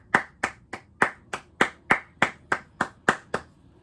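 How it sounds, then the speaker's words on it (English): One person claps alone, about twelve crisp, evenly spaced claps close to the microphone in an otherwise quiet room. "Round of applause for Paolo Banchero."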